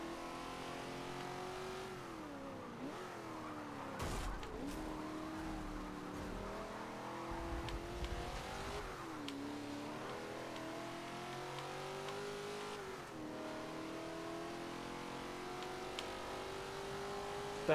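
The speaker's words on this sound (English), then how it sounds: "Looks like I'm racing against other Camaros just like myself." Chevrolet Camaro race cars in the Forza Motorsport 7 video game, engines droning and revving continuously, pitch climbing and dropping with each gear change, with brief tire squeals mixed in.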